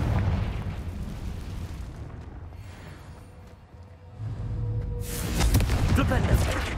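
Explosive spell blasts in the Hogwarts Legacy video game: a sustained rumbling roar with a louder burst toward the end, under game effects and spoken voices.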